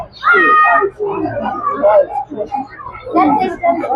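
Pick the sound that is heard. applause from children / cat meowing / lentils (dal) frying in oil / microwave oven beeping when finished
cat meowing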